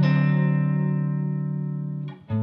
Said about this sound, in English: What happens if I play the next chord, the 4th chord, also with the guide tones?